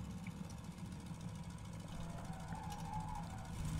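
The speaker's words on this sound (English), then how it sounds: "let's enjoy the sound of the engines." The engines of a Fokker F VII trimotor idle in Flight Simulator 2020, a low steady droning hum with a faint rhythmic throb that holds evenly and grows slightly louder toward the end.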